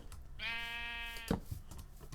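A Minecraft sheep gives one long, clear bleat up close, followed by soft clicks and a faint thump.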